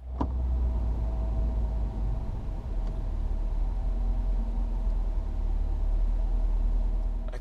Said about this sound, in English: he's doing some burnouts to ensure maximum traction